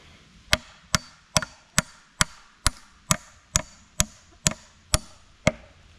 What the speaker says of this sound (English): we're just nailing a nail.